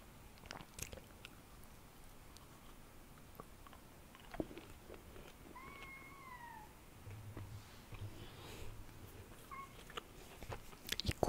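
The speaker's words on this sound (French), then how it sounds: "J'ai réveillé le chat." A freshly woken cat gives a couple of short high squeaky mews over quiet room noise and soft crunching of snacks.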